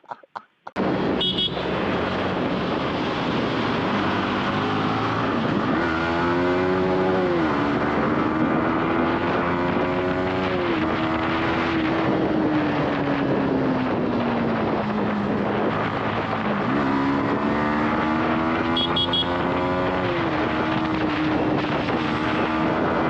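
A Yamaha MT-15 motorcycle is ridden hard, its engine note rising and falling through repeated gear changes in a steady, loud, continuous drone with wind rush throughout and no talking.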